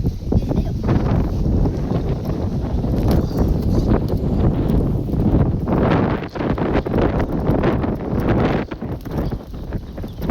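Strong storm wind buffets the microphone in loud, continuous rumbling gusts with rustling, steady throughout.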